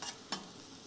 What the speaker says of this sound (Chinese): 肥肠再煸炒一下，出出油